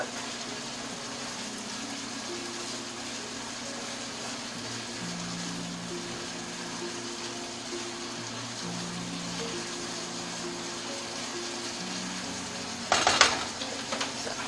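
Bologna gravy with flour cooking in a pan, a faint steady sizzle and bubble under a low hum, broken near the end by a short burst of utensil clatter.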